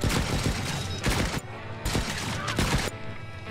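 Turret gunfire in the alien-colony survival game Stranded: Alien Dawn rattles out in dense, loud, rapid bursts that overlap one another, with brief lulls between volleys.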